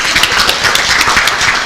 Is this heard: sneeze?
no